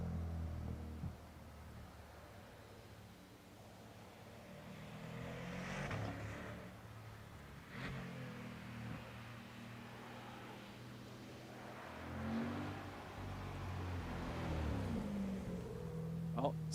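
Four-cylinder compact race cars rev and accelerate on the Grand Bend Speedway oval, engines rising and fading from a distance in several passes, mixed with crowd murmur and faint talk.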